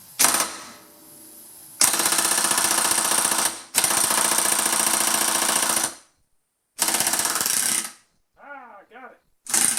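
Pneumatic impact gun driven by an air compressor at 110 psi, working on a John Deere loader hydraulic cylinder: loud rattling hammering bursts of about two seconds each, separated by pauses, with short hissing air releases near the end.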